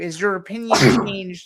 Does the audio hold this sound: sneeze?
yes